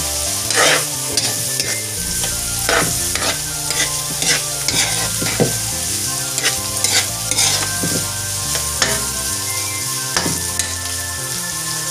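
Sliced bitter gourd (ampalaya) sizzles in a frying pan while a utensil stirs and mixes it, with repeated scraping strokes over a steady close hiss of frying and no talking.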